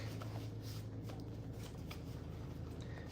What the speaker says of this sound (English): I'm going to go ahead and shuffle these real quick.